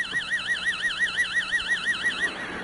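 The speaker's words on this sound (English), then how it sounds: "your brainwave will sound like this if you're listening to an amplified modulated signal" An amplified, modulated theta brainwave signal tone: a steady electronic whine that wobbles rhythmically up and down in pitch several times a second, continuous and alone with no voices.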